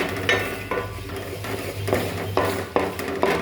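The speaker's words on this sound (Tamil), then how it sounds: "நல்லா கிளறி விட்டாச்சுன்னா முட்டை பொரியல் ரெடி" A utensil scrapes and stirs egg fry in sesame oil in a pan, repeated rhythmic scraping strokes roughly every half second over a steady low hum, close and moderately loud with no talking.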